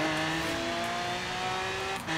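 Lamborghini Veneno in Forza Horizon 3 revving hard and climbing through the gears, a loud continuous high-pitched engine whine with rising tones that briefly dip at a shift near the end.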